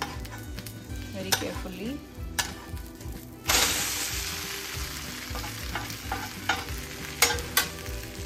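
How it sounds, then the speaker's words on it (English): A veggie-loaded stuffed omelette sizzling in a pan is flipped with a turner, loud frying with scraping and clatter, a burst of sizzle as it lands, and a brief voice. "So now I'm gonna turn it upside down so that I can cook it from other side too."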